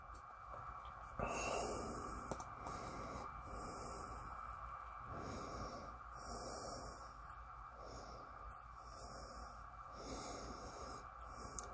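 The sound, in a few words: sniffing GL Pease Samarra pipe tobacco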